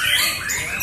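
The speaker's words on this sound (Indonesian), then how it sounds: "Serunya pertarungan burung murai batu adu tembakan luar biasa." A white-rumped shama (murai batu) at a songbird contest sings high, sliding whistled notes and chirps close by, with a low background rumble underneath, in a brief burst.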